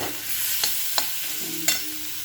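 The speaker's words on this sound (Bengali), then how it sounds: "পাশের কড়াতে চিংড়ি মাছটা ভরে দিচ্ছি বন্ধুরা" Prawns frying in a kadai, a bright steady sizzle with three sharp clinks of a spatula against the pan, close and alone without speech.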